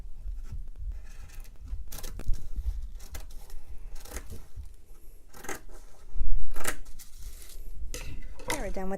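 Scissors cut fabric along a pinned sewing pattern for a girl's pinafore, with repeated crisp snips and blade clacks at irregular intervals, close up, mixed with faint rustling of cloth and paper.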